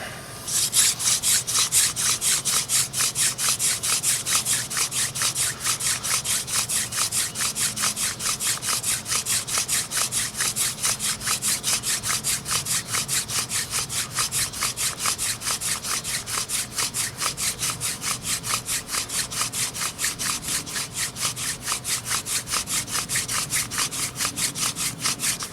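A short wooden friction fire drill rubs hard against a wooden board, producing a fast, steady scraping rhythm of back-and-forth strokes that carries on unbroken, close and loud, for about twenty-five seconds without speech.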